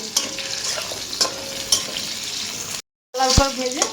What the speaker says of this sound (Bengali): এবার আমি আলুটা ভাজছি।